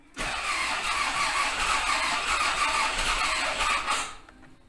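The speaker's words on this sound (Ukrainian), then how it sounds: "двигун прокручується акумулятором дуже повільно і не може завестися" A car engine cranks continuously in winter cold on a weak battery, with a strained, labored, slow whirring for about four seconds, then stops without catching.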